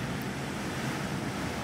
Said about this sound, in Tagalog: kaya ganito katindi ang ang hangin, ang lakas